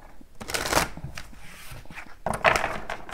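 Tarot cards are shuffled in quick riffling bursts, close and crisp, two main flurries separated by softer handling rustles.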